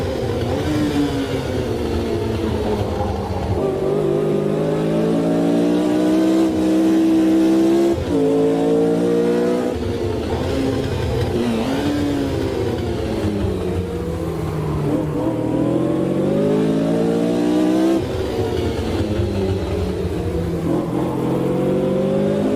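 Vintage Formula race cars racing at Adelaide, engines roaring loud and close with repeated rising revs through the gears and abrupt drops between shifts, continuous and without speech.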